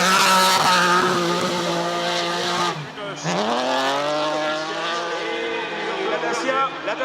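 Race car on the Trophée Andros ice racing track, engine revving with sliding tire noise as it passes close by, pitch dropping and climbing again, with a commentator talking over it.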